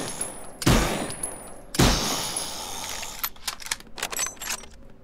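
Gunshots in the horror video game Delivery Man: two loud, booming shots about a second apart, each with a long fading echo, then a quieter stretch of clicking and metallic rattling like reloading.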